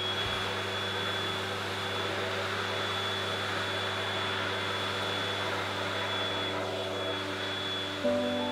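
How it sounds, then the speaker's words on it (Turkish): A vacuum cleaner runs over a carpet at a carpet museum in Milas, Turkey, a steady close motor drone with a high whine that holds throughout and no talk. "bu alanları da elektrik süpürgesiyle süpürüyoruz"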